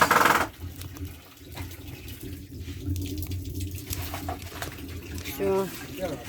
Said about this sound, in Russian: Ну, в каждую банку налью по чуть кипятка.